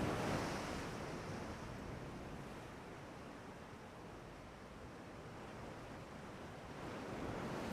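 Stormy sea waves in a wartime naval strategy video game make a steady, broad roar of surf and wind that swells slightly at the start and end, with no voices.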